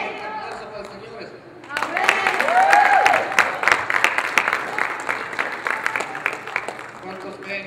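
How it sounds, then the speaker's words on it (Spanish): Applause from a church congregation at a Spanish-language service breaks out after a short spoken stretch, mixed with voices and exclamations, then tapers off. "Un aplauso para los señores."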